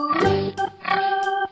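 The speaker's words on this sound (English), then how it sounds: "Pig." A pig gives a few short nasal oinks and grunts in quick succession, close and fairly clear, with no talk over them.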